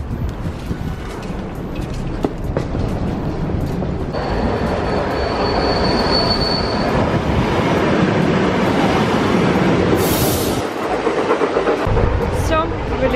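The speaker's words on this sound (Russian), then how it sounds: "Все, в электричке." Electric commuter train riding on rails on a suburban line to Irpin, a steady loud rumble of wheels and car noise throughout, with a brief high squeal partway and a hissing burst near the end.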